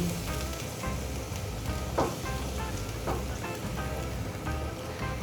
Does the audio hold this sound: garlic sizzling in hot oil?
yes